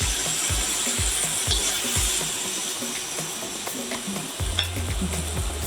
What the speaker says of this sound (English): I'm gonna let that simmer just for a little bit